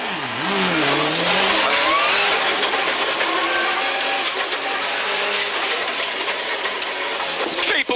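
A 1997 Subaru Impreza S3 WRC rally car is driven fast on a country road. Its engine note climbs and falls through gear changes with tyre noise, staying loud and close throughout.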